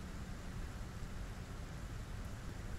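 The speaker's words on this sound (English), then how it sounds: "Yeah, look, it's raining right here." Rainfall in the video game Satisfactory, a dense constant hiss with a low rumble beneath it, level and uninterrupted, no voices.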